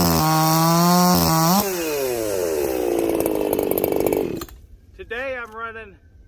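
A Husqvarna 592XP chainsaw with a 20-inch bar and semi-chisel chain warms up before milling red oak, its engine idling, then revving up loud and close before dropping off, with a voice briefly near the end.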